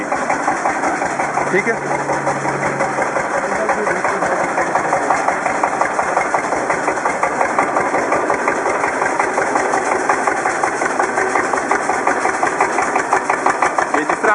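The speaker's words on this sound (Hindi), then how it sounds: "जैसे ही हम इसको गैस देंगे इसके नंबर ऑफ आरपीएम तो इसकी पावर जो है वो बढ़ जाएगी" A biogas-fuelled engine generator at a biogas plant runs steadily with a dense, even mechanical drone throughout, rising in speed as gas is fed in, while someone talks over it close by.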